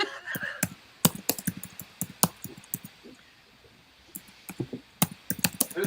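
Someone types on a computer keyboard, irregular bursts of sharp clacks and taps with brief pauses, close and dry, with no talking over it.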